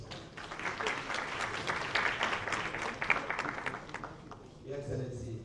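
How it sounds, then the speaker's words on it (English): An audience applauds at the launch ceremony for a justice reform strategy at State House in Freetown, Sierra Leone. Dense clapping holds steady for several seconds, then a voice begins speaking as it fades. "A round of applause, please."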